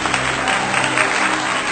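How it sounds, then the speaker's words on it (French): A church congregation at an anniversary and pastoral ordination service breaks into loud, dense applause, a continuous roar of clapping throughout. "Je vous prie de l'accueillir sous vos acclamations."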